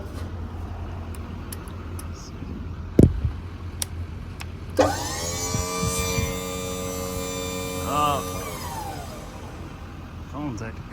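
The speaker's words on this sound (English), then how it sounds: "Go back here and work the crane." Hydraulic crane on a 2015 Chevrolet 3500 mechanics service truck starts working over the idling engine, a steady whine with shifting pitch rising after a sharp clunk and holding for several seconds before easing off.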